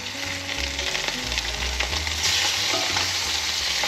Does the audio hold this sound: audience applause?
no